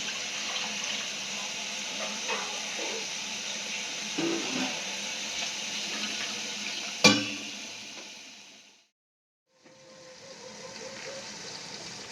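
Water poured over mutton cooking for a spicy village-style curry gives a steady, moderate rush that cuts out briefly near the end before resuming, with a sharp knock midway and no talking.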